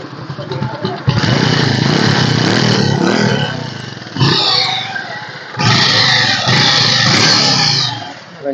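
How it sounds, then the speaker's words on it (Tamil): A 2011 Bajaj Pulsar 180 motorcycle with a new battery starts up close by and runs loudly, its engine revving hard, easing off and surging again in bursts. "பல்சர் 180 வண்டி இன்ஜின் சூப்பராக இருக்குங்க."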